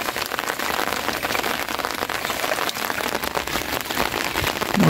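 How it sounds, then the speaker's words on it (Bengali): Rain pours steadily onto a canal on a wet day, a dense, even hiss of countless drops striking the water surface that holds unbroken and fairly close throughout, with no voices. "মোটামুটি ভালোই বৃষ্টি হইতে আছে"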